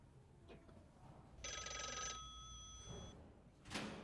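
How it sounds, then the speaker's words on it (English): In the AI Noir detective video game, an old telephone bell rings in one sustained burst, then a shorter second ring follows, at moderate distance over a quiet room hum. "can someone answer that fucking phone?"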